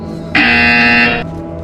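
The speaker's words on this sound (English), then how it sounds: "When you hear the buzzer, engage your atrophied neck muscles and look up at the ceiling." A single loud, harsh electronic buzzer in the VR game Portal Stories VR sounds for about a second, steady and flat in tone, then cuts off abruptly.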